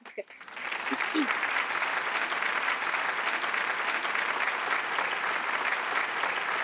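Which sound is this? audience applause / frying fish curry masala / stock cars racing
audience applause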